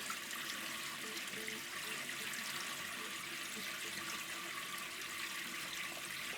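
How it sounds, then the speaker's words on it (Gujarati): Fenugreek leaves are washed under water in a colander, with a steady, fairly faint rush of running water that never stops. "હવે આપણે મેથીને સારી રીતે પાણી કાણાવાળા વાસણમાં લઈ ધોઈ નાખશું"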